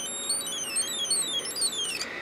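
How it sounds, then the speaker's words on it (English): A high electronic alarm tone from an alarm IC in an Elenco Snap Circuits kit, sweeping repeatedly downward in quick chirping steps, steady and fairly loud, then stopping. "It's just enough current going through there to activate our alarm IC."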